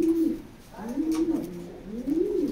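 A racing pigeon hen, part of a breeding pair in a loft, gives three soft, close, low coos in a rising-falling rhythm.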